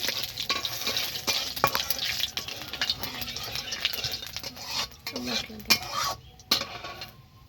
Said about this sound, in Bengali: তেজপাতা দেব আর একটু জিরে দিয়ে দেব, ভালো করে একটু ভেজে নেব সুন্দর করে।